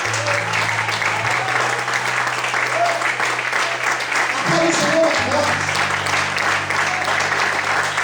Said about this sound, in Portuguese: Será que você pode glorificar e aplaudir o Senhor por isso?